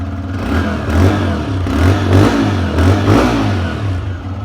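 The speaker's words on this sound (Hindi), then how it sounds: "आइडियल कंडीशन पर इंजन साउंड," A 125cc motorcycle engine idles and revs up and down in loud bursts, the exhaust note rising and falling several times, close by.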